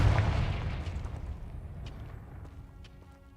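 Confringo explosive spell going off in Hogwarts Legacy, a single close, heavy blast at the start whose low rumble decays slowly over a few seconds, with faint clicks and a tonal hum near the end.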